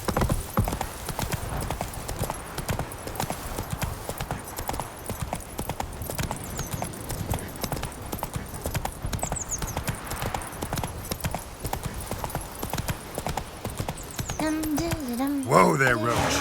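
Roach, the horse in The Witcher 3, gallops in a rapid, even clip-clop of hooves that carries on throughout and ends in a sharp whinny, with a voice talking at moments.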